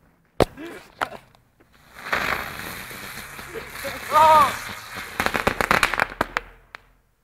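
Firecrackers going off outdoors as friends play with them: one sharp, loud bang near the start, then a quick run of snapping cracks toward the end, with voices and background noise between them.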